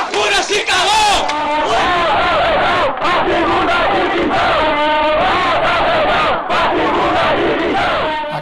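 A large crowd of Guarani football supporters chants and roars loudly in the stands, voices massed together in a continuous, energetic surge with brief dips between chants.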